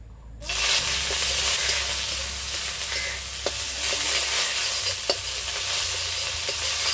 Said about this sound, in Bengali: নিম পাতাটা একটু ভেজে নেব।